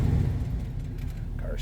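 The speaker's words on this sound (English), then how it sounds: "Car sounds good, runs good" A 1939 Chevrolet Master Coupe street rod with a 4-speed idles nearby, its low engine rumble steady and loud throughout, ending with a brief squeak or whine.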